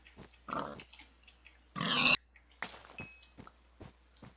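A pig in the Minecraft-based Yogbox game grunts and oinks in short, separate bursts, close and fairly loud, with quiet gaps and soft footstep-like taps between calls.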